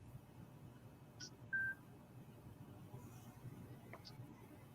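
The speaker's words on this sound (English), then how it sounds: "Phone going off." A phone goes off with a single short electronic alert tone during a morning skipjack fishing outing, faint against steady outdoor water and engine-like rumble.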